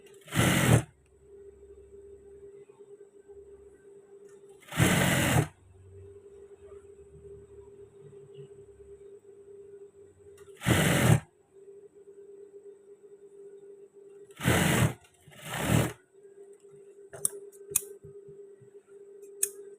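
Sewing machine stitching trousers at the thigh section, heard in several short loud bursts of a few seconds each, separated by quieter pauses with a low steady hum and light handling noises.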